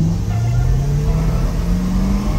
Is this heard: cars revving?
yes